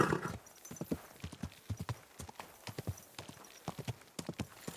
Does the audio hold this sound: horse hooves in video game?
yes